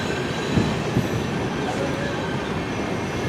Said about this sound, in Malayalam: സോംനാഥ് ഗാന്ധിനഗർ ഇൻ്റർസിറ്റി എക്സ്പ്രസ് എന്നാണ് വണ്ടിയുടെ പേര്.